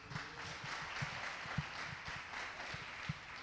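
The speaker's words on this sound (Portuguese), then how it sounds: "Aplauda o Senhor em nome de Jesus." A church congregation claps during a sermon, a steady moderate wash of applause with some distinct individual hand claps standing out.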